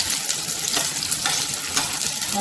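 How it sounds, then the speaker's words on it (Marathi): Onion and green chili frying in two spoons of hot oil for hotel-style palak paneer, a dense continuous sizzle with stirring scrapes, close and fairly loud, with no talking. "इथे दोन चमचे तेल घेतलेलं आहे तर आपण हा कांदा पटकन घेऊया त्याच्यामध्ये तेलामध्ये इथे मिरची आहे"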